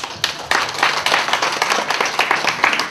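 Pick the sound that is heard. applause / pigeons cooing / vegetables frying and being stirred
applause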